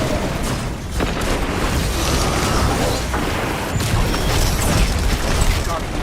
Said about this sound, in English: Shoot the Crusher with rockets.